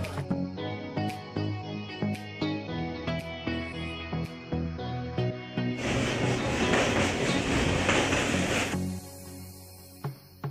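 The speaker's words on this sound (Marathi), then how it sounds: "जम्मू तवी ट्रेन आपली पठाणकोट ट्रेन पोहोचलेली आहे" A train from Pathankot rolls into Jammu Tawi station with rhythmic clacking and ringing tones, swelling into a loud rushing roar before easing off near the end.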